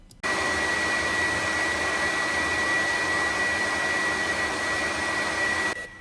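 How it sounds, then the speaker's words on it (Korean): A powerful air blower roars steadily, blasting dust off bedroom wallpaper and ceiling during a cleaning job; loud, continuous broadband rush that starts abruptly and cuts off near the end, with no talking. "먼저 벽지와 천장에 있는 먼지를 불어내 줍니다."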